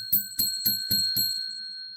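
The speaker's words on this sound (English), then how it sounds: "There's the bell." A bright bell chimes five times in an even, quick rhythm, each strike ringing with a clear metallic tone before the last one fades out alone.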